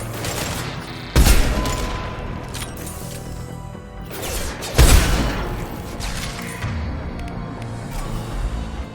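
Gunfire in Mass Effect 2 during Miranda's loyalty mission comes as two loud, sharp blasts a few seconds apart, each followed by scattered shots and clattering over a continuous background of combat noise.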